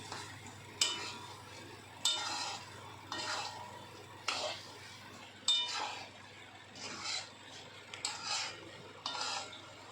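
A spoon scraping and stirring semolina sheera with dry fruits in a pan, giving faint, irregular scrapes and clinks roughly every second or two against a quiet kitchen hum.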